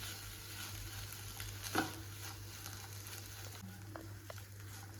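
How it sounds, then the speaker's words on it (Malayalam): A cowpea and drumstick leaf stir-fry (thoran) is stirred in a pan under a steady low sizzle, with a scraping stroke partway through and a few soft clicks of the spoon against the pan. "വൻപയർ ചേർത്തിട്ട് പിന്നെ ഇങ്ങനെ ഇളക്കി ചിക്കി തോർത്തി എടുക്കണം"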